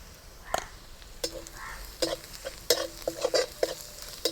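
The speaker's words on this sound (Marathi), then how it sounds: "कांदा आपला हलकासा सोनेरी रंग येईपर्यंत परतून झालेला आहे आता त्याच्यात मसाले टाकून घेऊ" Onions that have fried to a light golden brown are being stir-fried in a pan with turmeric, garam masala and coriander powder for a semolina breakfast dish. Soft sizzling runs underneath a series of sharp spatula clacks and scrapes, which come in quick clusters toward the end.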